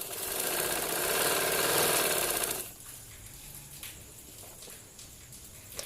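A sewing machine stitches a trouser seam with a loud, steady mechanical whir for a few seconds, then stops, leaving only faint handling noises.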